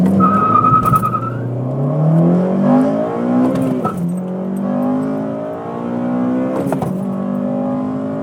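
A 2007 Honda Civic Si engine howls as its VTEC comes in around 6,000 RPM, the pitch climbing steadily through several gear pulls with short breaks between shifts, loud and close with a brief tire chirp at the start.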